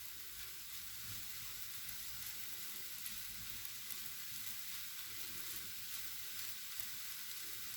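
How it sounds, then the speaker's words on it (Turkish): Steady crackling sizzle of shredded kadayif pastry frying in hot oil, with soft scraping and stirring noises underneath, close and continuous. "Böyle karıştıra karıştıra her tarafını bir aynı şekilde kızartacağız."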